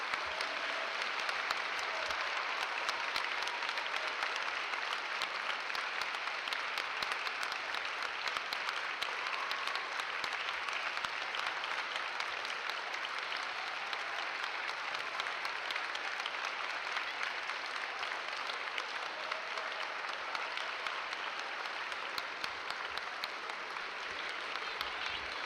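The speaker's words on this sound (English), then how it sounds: "Let's give our veterans one more last big hand of applause." An audience at a middle school Veterans Day ceremony applauds veterans in a steady, dense roar of clapping that carries on unbroken for the whole stretch, with no voices standing out.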